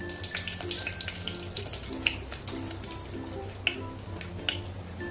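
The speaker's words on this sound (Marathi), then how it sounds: "जिरे मोहरी चांगले फुलले, आता आपण कढीपत्ता टाकूया।" Dried curry leaves sizzle in hot oil with cumin and mustard seeds, a steady close crackling hiss with a few sharp pops.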